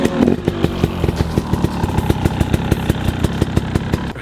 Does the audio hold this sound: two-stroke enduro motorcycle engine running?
yes